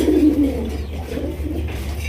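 Rare-coloured Raj Golla fancy racer pigeons coo in soft, low, throaty bursts, close by over a steady background hum.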